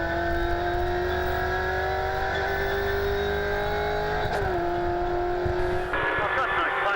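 V8 touring race cars, a Ford Falcon and Holden Commodore, racing at Timaru, with a sustained high engine whine rising through the gears before a sharp shift, loud and close under a commentator's voice.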